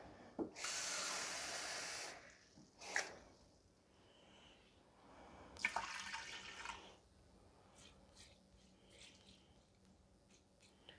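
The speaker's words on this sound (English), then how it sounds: "So I'm going to go ahead and get my water added in." Water poured into an Instant Pot holding rice, two bursts of splashing and trickling separated by clinks and a few quieter pours and drips, close and fairly soft.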